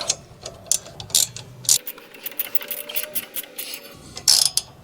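A ratchet wrench clicks in quick bursts of ratcheting on a front sway bar end link of a Dodge Avenger, Chrysler 200 or Sebring, close and fairly loud, with brief pauses between strokes.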